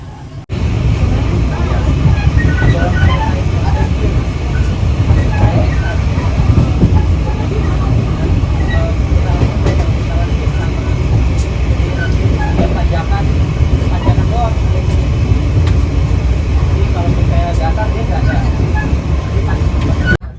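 A local Merak commuter train riding the rails, a loud continuous rumble with rattling carriages and clacking wheels heard from inside the car, with voices mixed into the steady roar.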